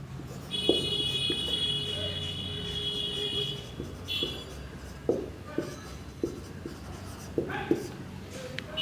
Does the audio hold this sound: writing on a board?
yes